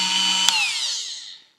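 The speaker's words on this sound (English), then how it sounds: "I've also been using a Dremel with this little sanding drum on it" A Dremel rotary tool fitted with a small sanding drum, used on a Scout 800 steering wheel, gives a close, high-pitched motor whine with one brief tap. The pitch then winds down and fades as the tool spins to a stop.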